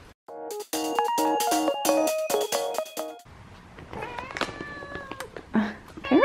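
Several cats meow loudly and repeatedly up close, with drawn-out, wavering cries overlapping one another, followed by softer scattered meows mixed with some rustling.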